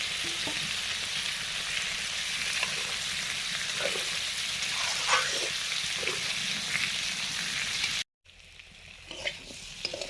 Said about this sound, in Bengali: এখন বেগুনটাও দিয়ে দিচ্ছি, ভাজা বেগুন, হালকা ভাজা